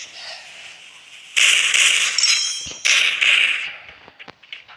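A firecracker bomb goes off nearby in two loud, hissing, crackling bursts, each lasting about a second, followed by a few sharp pops as the sound fades.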